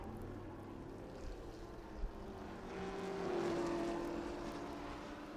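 A race car at Laguna Seca drops down through the gears under braking. Its engine note is faint and distant, and a brief rising surge of revs comes near the middle.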